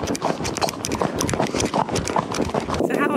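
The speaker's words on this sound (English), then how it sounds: "If you decide to come out here and go horseback riding" Horse hooves clip-clopping during a horseback ride through trees at an estancia in Cordoba, Argentina, a steady rapid patter of steps close by with voices and outdoor noise mixed in throughout.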